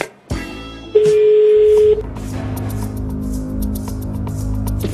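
A telephone places a call to Kuwait from a television studio, with a pickup click, a steady dial tone, then quick tone bursts and a faint line hum, with no talking.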